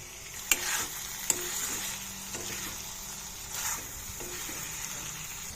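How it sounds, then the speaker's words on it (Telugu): Salted brinjal and coconut curry is stirred in a pan, with two sharp utensil clinks early on, then softer scraping strokes over a quiet sizzle. "సాల్ట్ వేస్తున్నాను. ఇలా 2 నిమిషాల పాటు కలుపుతూ ఉండాలండి."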